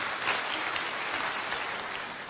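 A church congregation claps for God during a sermon, a soft, steady wash of many hands heard from some distance, continuous and fairly even for a couple of seconds.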